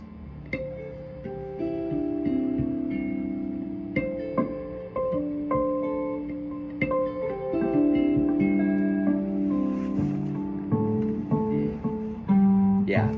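Jazz guitar played with the harp technique, with string harmonics ringing against fretted notes in a cascading run; bright overlapping tones sustain steadily and close-up with no talk.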